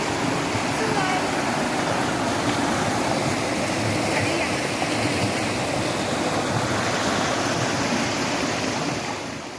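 A river flows through tropical rainforest, a loud, continuous broadband rush of water that holds steady from start to finish with no breaks.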